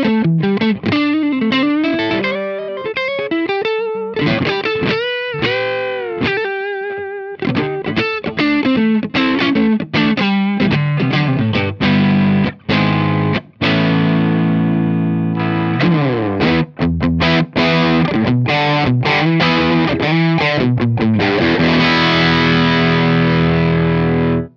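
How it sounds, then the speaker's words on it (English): Electric guitar played through a Laney Monolith distortion pedal: loud, saturated single notes with bends and vibrato, then heavier crunchy chords and a final ringing strum, with no talking. "So the Monolith distortion pedal is an ideal partner for a kind of a vintage sounding or a vintage styled single channel amp."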